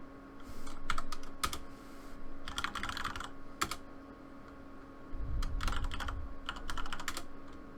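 Fingers type a password on a computer keyboard in quick bursts of crisp, close key clicks separated by short pauses, with a heavier thump near the middle and no voices.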